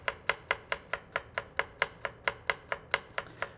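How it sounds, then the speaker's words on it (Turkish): Onions being chopped into small pieces for Turkish ezogelin lentil soup, a steady run of about sixteen crisp, close knife taps on a cutting board at an even, brisk rhythm with no talking. "Elimizde geldiği kadar küçük küçük doğrayacağız."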